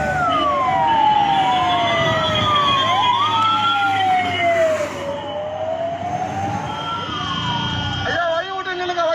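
An ambulance siren wails loud and close, rising and falling in long sweeps over traffic rumble, with a louder burst near the end.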